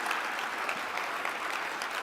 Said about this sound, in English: Can we get another round of applause for the only Democratic congressman from Travis County?